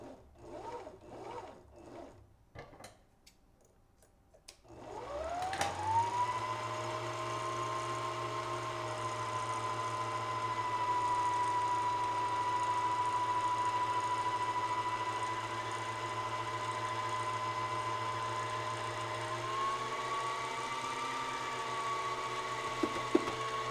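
A sewing machine winds a bobbin, starting up after a few soft handling clicks and then running as a steady, close motor whir with a high spinning hum that holds for nearly twenty seconds.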